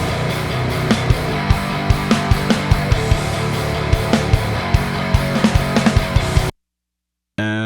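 Processed electric guitar played through an amp with an impulse response, 600 Hz scooped and high sizzle added, strummed in a steady rhythm with sharp repeated attacks for about six seconds, then a brief silence and a short final burst.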